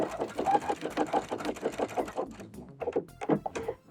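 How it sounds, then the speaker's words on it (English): A sewing machine stitches a half-inch seam at the end of a skirt's kick pleat, running in close, steady rhythmic bursts with a brief pause before the stitching resumes. "So I'm going to be sewing a 1/2 inch seam to the end of my cake plate."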